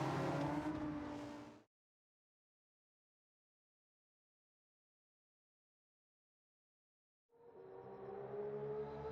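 An engine-swapped Lexus RC F in Gran Turismo 7 gives a short burst of engine roar, then several seconds of silence, then the engine sound returns steadily to the end.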